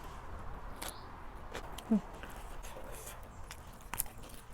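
Crispy fresh food is bitten at a Thai som tam and grilled chicken meal: a single sharp crunch stands out, with soft chewing and small mouth sounds in a quiet room.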